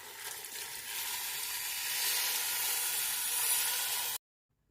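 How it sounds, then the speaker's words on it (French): Water is poured into a pot of sautéed vegetables for homemade soup, giving a steady loud hiss and sizzle that builds for about four seconds, then cuts off abruptly into silence. "Maintenant, je rajoute l'eau."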